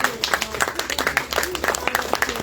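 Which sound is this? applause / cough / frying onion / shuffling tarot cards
applause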